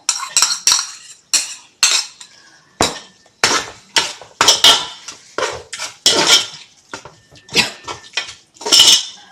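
Metal spoon scraping and clinking against a pot while curd is stirred into leftover ghee rice for a chicken biryani, repeated sharp knocks and scrapes in an irregular rhythm, close and fairly loud, with no talking.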